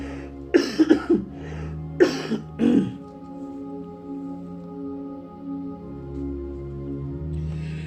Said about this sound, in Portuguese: Quase bom dessa tosse.